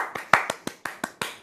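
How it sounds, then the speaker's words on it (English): A small audience gives eight sharp, evenly spaced claps in quick succession, close and fairly quiet. "I think that deserves a round of applause."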